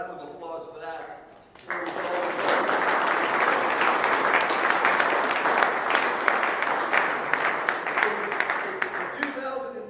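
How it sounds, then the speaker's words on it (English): After a man's brief spoken introduction, an audience breaks into loud, sustained applause for a keynote speaker at an Arkansas activities gathering, with dense clapping that carries on steadily to the end. "Let's give him a round of applause for that."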